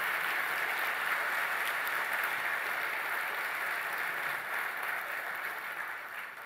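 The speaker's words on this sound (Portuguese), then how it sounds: "Pode aplaudir o Senhor." A church congregation claps together in steady, sustained applause that fills the room and fades slightly toward the end.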